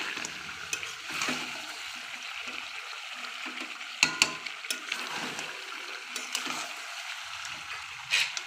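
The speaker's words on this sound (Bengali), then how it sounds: "আমি জল গরম করতে দিয়েছিলাম, ওই জলটাই দিয়ে দিলাম, গরম জলটা দিয়ে দিলাম" Hot water poured into a pan of frying duck curry, a close watery splash and gush over low sizzling, with a few clatters.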